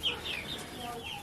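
Olive egger rooster and hens on a chicken farm, clucking softly and continuously at close range, with a brief sharper call near the end.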